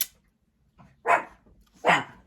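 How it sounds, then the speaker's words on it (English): A female pet dog indoors at home gives two sharp, separate barks, close and moderately loud, spaced under a second apart after a brief yip. "I'll let her out real quick so she's barking"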